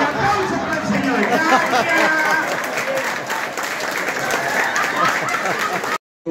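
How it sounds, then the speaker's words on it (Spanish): An audience at a comedy show in Villa Carlos Paz breaks into loud, sustained applause for a man, dense clapping mixed with crowd chatter and cheering, ending abruptly. "¡Un aplauso para el señor!"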